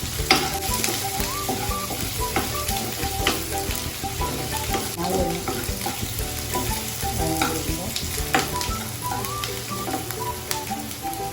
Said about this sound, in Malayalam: പച്ചമുളക്, ഇഞ്ചി, വെളുത്തുള്ളി ഇടാം.